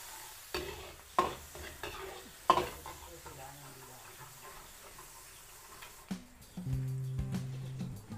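Garlic sizzles in cooking oil and margarine in a pan, with a soft frying hiss under several sharp stirring clatters and scrapes, followed by louder stirring near the end.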